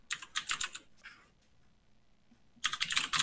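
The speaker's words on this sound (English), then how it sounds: "Oh my God, someone's keyboard" A clicky computer keyboard clatters in quick bursts of typing, a flurry of sharp keystrokes, a pause of near silence, then another rapid burst.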